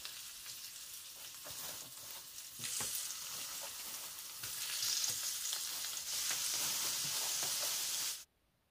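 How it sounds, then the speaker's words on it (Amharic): Lamb meat fries in hot oil with a loud, crackling sizzle that grows fuller and denser partway through, close and steady with no talk, then stops abruptly. "ዘይቱ ሲግል ስጋውን ጨምራለሁ።"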